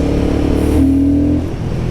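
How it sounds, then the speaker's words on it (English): A Royal Enfield Guerrilla 450 motorcycle engine pulls under acceleration while riding, a loud close steady drone with a brief rising whine in the middle before settling back. "I really like the engine mapping on this motorcycle."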